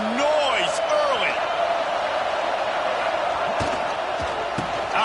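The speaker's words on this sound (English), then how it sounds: "This crowd bringing the energy and noise early." Stadium crowd noise from a football video game, a steady roar running through the whole stretch, with an announcer's voice talking over it at close range.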